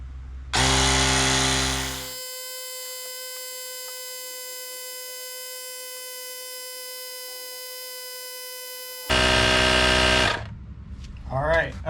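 Acmount W160 jump starter air compressor running while inflating a tire to 10 psi, a loud steady motorized buzz with a whining tone that starts, runs for about ten seconds and cuts off, followed by a beep.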